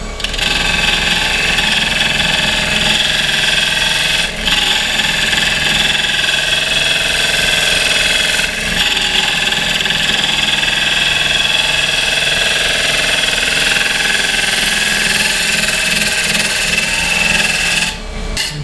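A bowl gouge takes a smooth cut on a spinning wood lathe, a loud, continuous rough whirring scrape that holds steady for a long stretch with only brief dips.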